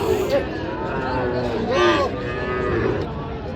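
A four-month-old calf moos once at a busy cattle market, close and clear, amid crowd chatter and someone speaking.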